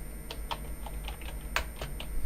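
Fingers type a short command on a computer keyboard, giving a quick run of light, close key clicks of uneven rhythm over faint background hum.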